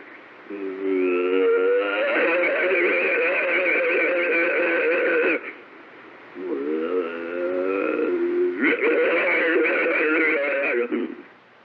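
Purported Bigfoot intimidation vocalizations recorded near a campsite: sustained, wavering, howl-like calls in two long bursts with a gap between, loud and somewhat distorted as if captured on a radio-style recording.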